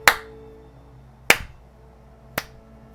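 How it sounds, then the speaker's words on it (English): Three slow, sharp mocking claps in the video game Regalia: Of Men and Monarchs, spaced about a second apart, crisp and close in a quiet room, sounding deliberately unhurried. "proceeds to clap in obvious mockery"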